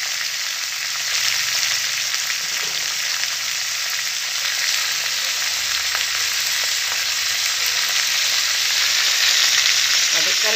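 Curry leaves and bottle gourd peel fry in a hot pan with a loud, continuous hiss and crackle that holds steady and builds slightly toward the end.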